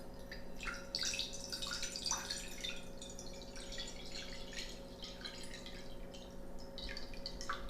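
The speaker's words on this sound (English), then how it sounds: "Pour water into your container." Water poured into a craft container for an ocean-effect whale project splashes and trickles in bright bursts, close and continuous over a faint steady hum, with no voices.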